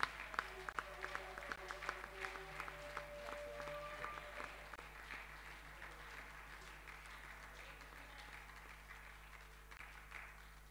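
A church congregation applauding at a Sunday morning seminar, a faint, steady patter of many hands spread evenly across the room, heard from a distance over a low hum.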